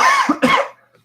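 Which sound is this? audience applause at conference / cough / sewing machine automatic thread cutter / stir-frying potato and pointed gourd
cough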